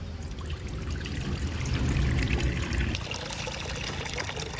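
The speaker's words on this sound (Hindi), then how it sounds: "कढ़ाई में ऐड करेंगे पानी।" Water pours steadily into a metal wok, a continuous splashing rush that fills the clip and eases slightly toward the end, close by.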